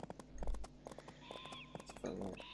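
Horse hooves clip-clop steadily during riding in a video game, a quiet, rhythmic series of hoof strikes mixed with other game sounds, and a brief whinny-like tone appears partway through.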